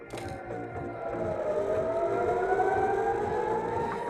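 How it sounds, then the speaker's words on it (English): Loud wailing civil defense air raid sirens in Jerusalem during an Iranian missile attack, several overlapping tones sliding slowly upward and sustained, with a low rumble beneath. "Sirens across Israel as a state of emergency is declared"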